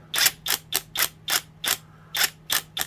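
An AalloyMan 1/2" brushless impact wrench is bumped in short bursts, nine sharp mechanical hammering pulses in quick, slightly uneven rhythm, loud and close over a faint hum.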